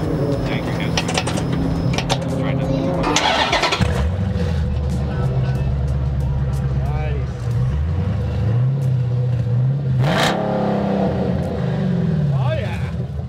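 A 392 Hemi car engine rumbles steadily at idle, then revs up sharply and settles again, loud and close, with a steady low hum throughout.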